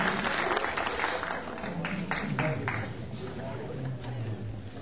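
Audience applause at a Turkish classical music choir concert in Biga: steady, dense clapping filling the hall throughout, with a voice over the top.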